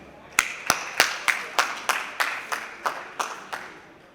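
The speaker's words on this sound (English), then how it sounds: "A round of applause for Julia, please." Several sharp claps in a steady run, about ten in four seconds, from a small audience welcoming a speaker at a talk on nature and technology; fairly close and moderate in level, with no one talking.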